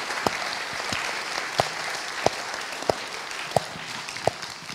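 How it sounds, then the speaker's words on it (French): A seated conference audience applauds at the close of a round-table discussion, a steady wash of many hands clapping with a few sharp, louder claps standing out at regular intervals, no voices. "Merci Denis, on vous applaudit, bravo."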